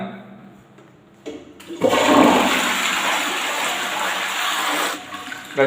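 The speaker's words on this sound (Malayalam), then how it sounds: "ഇത് നമ്മളൊന്ന് ഫ്ലഷ് ചെയ്ത് വിടണം" A toilet flushes after a coconut-shell cleaning solution is poured in: a faint click, then a sudden loud rushing gush of water that runs steadily for several seconds before tapering, with no talk.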